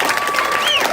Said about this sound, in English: Give a big hand of applause for all the other comics tonight so far.